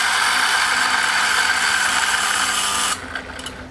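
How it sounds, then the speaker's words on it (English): An electric coffee grinder runs steadily, grinding coffee beans to a coarse grind in a loud, constant whir, then cuts off near the end, leaving a brief quieter rattle. "So I'm going to use my grinder here, so freshly ground coffee. I'm going to adjust my grind to coarse grind. I'm going to now grind my coffee."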